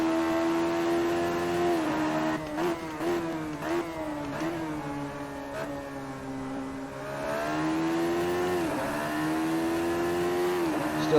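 Radical SR3 race car engine lapping Imola in a racing game, a loud close high-revving whine that rises through gears, dips and pitches down under braking around mid-lap, then climbs again.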